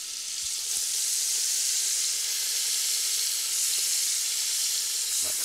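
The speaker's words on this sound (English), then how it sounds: "as soon as the bacon has started to brown, which it is now, we can add some little finely diced carrot" Bacon browning in a pan with finely diced carrot, sizzling loudly and continuously up close with a dense, even hiss and faint crackles, no voices.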